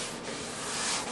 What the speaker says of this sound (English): So right now, I'm sanding down